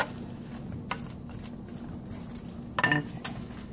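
Onions and mushrooms are stirred in a pan, giving quiet scrapes and a few light clinks of a utensil against the metal over a faint low hum. A brief louder clatter comes near the end.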